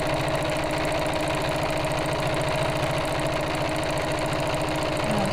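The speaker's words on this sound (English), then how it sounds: "And then we'll sew the turning gap closed." Sewing machine stitching a turning gap closed in a seam, running continuously at a steady pace with a loud, even mechanical hum and rapid regular needle pulses throughout.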